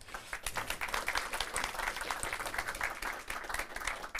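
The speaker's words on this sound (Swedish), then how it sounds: "En varm applåd." Warm applause from an audience at a Science & Innovation Day event, steady dense clapping filling the whole stretch at moderate level with no voices over it.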